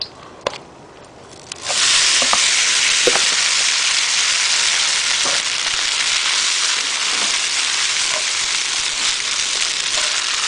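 Noodles dropped into hot peanut oil in a wok, a loud sudden hiss of frying that starts after a few faint clicks and then holds as a steady, dense sizzle close up.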